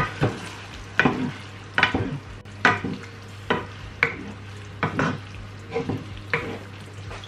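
Pancit canton with beef steak is stirred and fried in a hot pan, a steady sizzle broken by about a dozen sharp scraping and clattering strokes of the utensil at a regular rhythm, close and loud.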